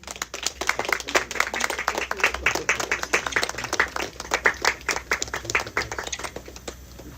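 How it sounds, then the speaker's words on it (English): An audience at an international seminar at St. Paul's College claps in a steady, dense round of applause, close and lively with distinct individual claps throughout. "A big round of applause, everybody."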